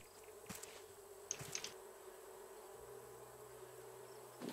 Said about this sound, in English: these bees flying around the honeycomb, that should count as well, right?